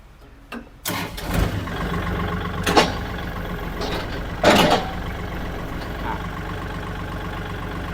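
A 2020 Kubota L4018 4WD farm tractor with front blade and disc plough starts and runs, a steady diesel rumble with a few sharp knocks and clunks of the gear lever as gears are tried.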